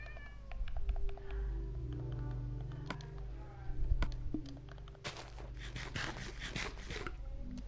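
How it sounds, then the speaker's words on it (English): A Minecraft cat meows several times in the foreground. The calls repeat at irregular intervals over game ambience, with occasional clicks and footsteps. "Is that a cat?"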